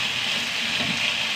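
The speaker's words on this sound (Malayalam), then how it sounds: "കുറച്ച് വെള്ളം ഒഴിച്ചു കൊടുക്കുക." Water pours steadily into a cooking pot while a dish is made in a pressure cooker, a continuous close splashing gush with no talk.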